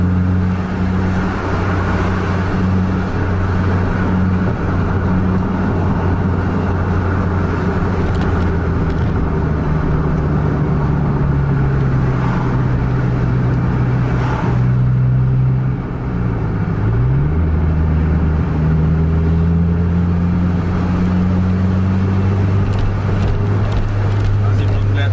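A race car's engine at full throttle drones loudly and steadily from inside the car, with a pitch drop at a gear change, wind rush and a voice talking over it.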